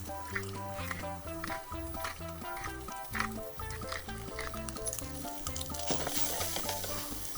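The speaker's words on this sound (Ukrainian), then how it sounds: "Тут все смажиться, все класно." Bacon sizzles steadily in a hot pan underneath continuous background music, with no talking.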